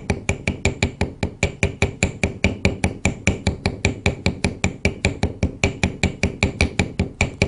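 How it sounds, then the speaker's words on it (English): Rapid, steady series of sharp metallic taps from a chasing hammer peening a rivet head flared over a metal disc, about four strikes per second, close and crisp with no talk. "I'm going to take my chasing hammer."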